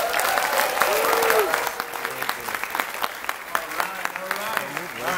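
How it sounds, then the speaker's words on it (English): Audience applause at a Hasbro Marvel Legends panel at San Diego Comic-Con 2018, a dense sustained clapping from a large crowd that fades after a few seconds into scattered claps and murmurs. "how about another round of applause for everybody in here"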